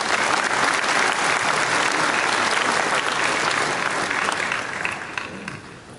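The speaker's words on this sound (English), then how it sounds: "So let's all give a round of applause to this year's sponsors." An audience at a tech summit gives sustained applause for the event sponsors, a dense, steady wash of clapping that holds loud for about five seconds before tapering off at the end.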